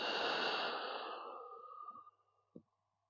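A slow, steady exhaling breath during a gentle yoga session for the lower back, a soft airy rush that fades over about two seconds, followed by a faint short breath near the end.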